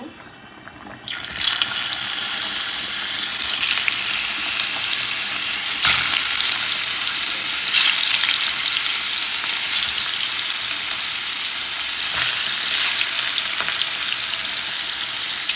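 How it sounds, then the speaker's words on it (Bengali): Fish pieces drop into hot oil in a pan and a loud hiss erupts, settling into a strong, continuous sizzle with occasional spatters, close by and without voices. "মাছগুলো এখন ভেজে নেব"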